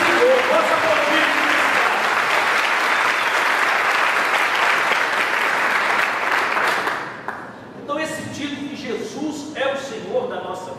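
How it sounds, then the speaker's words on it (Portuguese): A church congregation at a Portuguese-language evening seminar breaks into loud, sustained applause for about seven seconds, dense and steady, then it fades as a voice and scattered voices come through. "Nós vamos aplaudir que Jesus é o Senhor. Vamos aplaudir."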